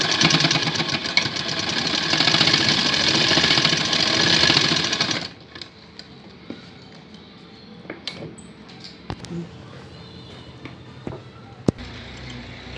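A sewing machine stitches elastic onto a baby skirt belt in a loud, fast, continuous whir for about five seconds, then stops, leaving scattered clicks and fabric handling.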